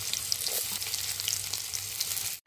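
Chopped onion fries in oil with black cumin and slit green chilies, a close, continuous bright sizzle with faint crackles and a low hum beneath, ending in a brief cutoff.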